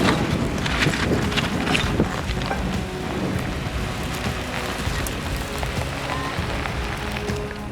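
Steady rain and wind wash over the microphone during a storm while off-roading across a lava field, a dense continuous hiss with scattered patters and no talk.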